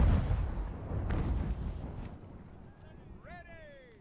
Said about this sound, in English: I'm gonna let our guns do the work